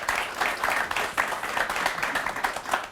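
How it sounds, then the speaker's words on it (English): A conference audience applauds at the close of a session, with steady, dense clapping that holds evenly throughout at moderate volume. "Please give them a round of applause."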